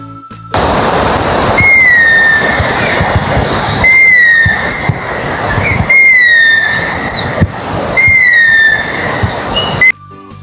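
High, thin whistling calls of a Philippine eagle repeat at a steady pace, each a short rising-falling squeal, heard against a constant rushing background noise.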